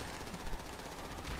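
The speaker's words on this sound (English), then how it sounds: "Oh, he's shooting at us." Rapid automatic gunfire in Grand Theft Auto crackles through a short, dense burst, loud and continuous with a harsh broadband texture and no talking over it.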